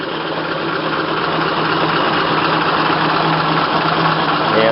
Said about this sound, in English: Yeah, it's still cold, but you can see it sounds good and runs well.